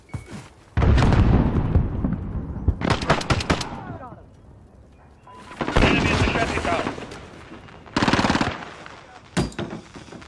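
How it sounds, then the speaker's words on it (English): Grenade blasts and heavy automatic gunfire in a Modern Warfare team deathmatch, arriving in loud bursts separated by quieter gaps, close and punchy. "Throwing grenade!"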